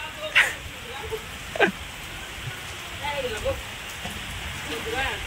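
Steady rain hisses down continuously, with a few sharp nearby splashes and faint voices talking underneath.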